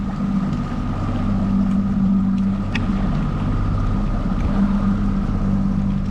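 Outboard motor of a small fishing boat on the Black Sea, running steadily and loudly throughout while the boat turns, with a constant low drone and wind noise over the water.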